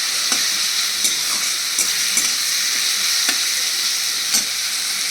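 Onion with garlic paste frying in a pan, loud steady sizzling punctuated by regular scraping stirs roughly every second, close and without talk.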